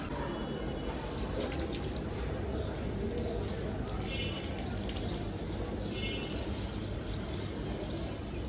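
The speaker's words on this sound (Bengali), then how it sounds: "আমি এখন একটু গাছে পানি দিতে এসেছি, পানি দিয়ে নিই।" Water pours steadily onto a small group of garden plants on an overcast day, a continuous close splashing and trickling that lasts throughout.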